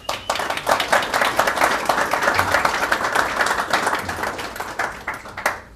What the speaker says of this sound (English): So let's give our panelists a warm welcome.